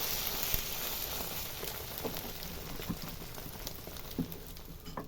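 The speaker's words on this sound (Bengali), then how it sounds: "আমি এবার চাটুতে ডিমটা দিয়ে দিলাম, তার উপর দিয়ে আমি পরোটাটাকে দিয়ে দিচ্ছি" An egg and a paratha fry on an oiled tawa, giving a faint, even sizzle with soft crackling pops spread across the whole stretch, no voices.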